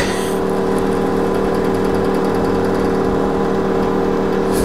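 A steady engine drone from a running generator, constant and loud with a mechanical hum, no voices.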